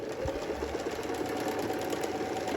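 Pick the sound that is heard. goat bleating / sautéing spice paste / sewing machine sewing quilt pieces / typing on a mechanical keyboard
sewing machine sewing quilt pieces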